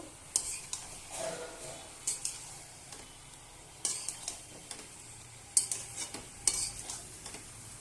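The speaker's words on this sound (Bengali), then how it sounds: "টমেটো আর কাঁচা লঙ্কাটাও আমি দিয়ে দেবো। দিয়ে ভালোভাবে নাড়ব।" Chicken stirred in a pan with spices, tomato and green chilies, with a soft sizzle beneath irregular clinks and scrapes of a spoon against the pan, close and fairly quiet.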